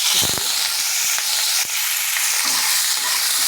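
Onion frying with bay leaves, dried chilli and cumin gives a loud, steady sizzle, broken by a few scraping stirs of the spoon in the pan.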